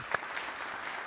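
Audience applause at a university presidential lecture fills the room as a steady, moderate patter of many hands clapping, with one sharper clap near the start.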